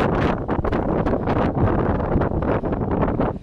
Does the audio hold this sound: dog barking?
no